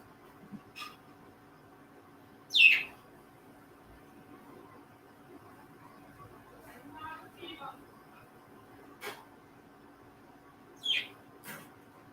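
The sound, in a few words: pet birds chirping indoors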